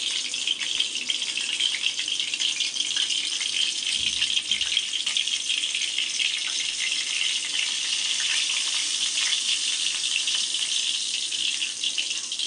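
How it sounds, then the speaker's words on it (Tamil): Mustard seeds frying in a spoonful of oil in a small tempering pan for curd, a continuous bright hiss and crackle at even loudness, with one soft thud near the start. "ஒரு ஸ்பூன் எண்ணெய் போட்டுட்டு அதில் கொஞ்சோண்டு கடுகு"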